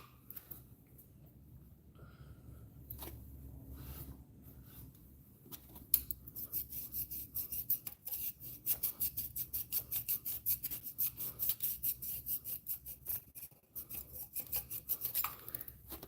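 A wood awl scrapes the aluminum surface of a GM 1.4L engine, giving repeated rhythmic rasping strokes that grow steady and close after a quieter start.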